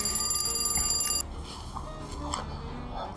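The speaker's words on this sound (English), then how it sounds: "there goes the phone" A telephone rings indoors with a rapid electronic trill for about a second, then stops, leaving faint room noise.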